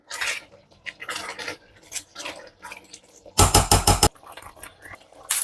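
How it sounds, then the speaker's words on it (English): A spoon scrapes and knocks against a pan while homemade aloe vera oil is stirred, giving intermittent clinks and scraping strokes with soft sizzling between them and one louder, sustained burst of frying noise. "So I have to stir because I don't want it to get burned."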